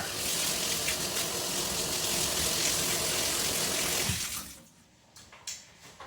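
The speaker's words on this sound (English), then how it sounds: "we're going to rinse our cloth" A cleaning cloth rinsed under a running bathroom tap, a steady close gush of water for about four seconds that then cuts off, leaving a few faint drips and handling noises.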